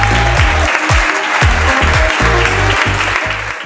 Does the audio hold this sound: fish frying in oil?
no